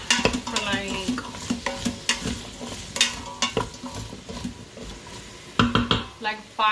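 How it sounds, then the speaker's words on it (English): Onions sautéing in melted butter in a pan, with a soft sizzle under repeated scraping and stirring clatter of a utensil against the pan, close and moderately loud. "So now that my butter is melted, I'm gonna dump these in here. Saute them."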